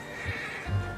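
A horse neighs in the video game Red Dead Redemption 2, a short whinny lasting about a second over a steady outdoor game ambience.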